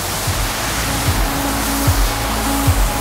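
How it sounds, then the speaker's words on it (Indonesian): Waterfall at a nature park in Sijambe: a loud, steady roar of rushing water fills the clip, with low, soft thumps underneath. "Menikmati air dan berfoto kerap dilakukan di air terjun ini."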